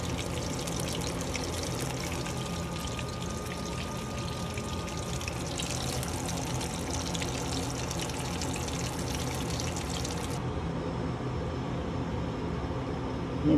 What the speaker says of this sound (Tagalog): Drain ko na lang ang oil ng aking chicken fillet.